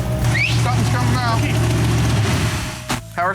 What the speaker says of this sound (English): I was enjoying hearing the carburetors open up and the engine run so good